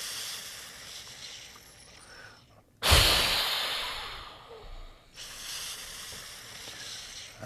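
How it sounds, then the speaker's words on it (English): One sharp, explosive inhale through an O2Trainer breathing device, a sudden loud rush of air that fades over about two seconds, framed by quieter breathing noise and no talk. "And then explosive inhale."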